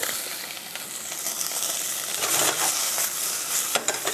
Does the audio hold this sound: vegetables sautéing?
yes